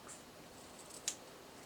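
A pair of scissors gives a single crisp snip while trimming the loose threads of a hand-made tassel, a close but quiet cut in an otherwise hushed room with a faint earlier rustle.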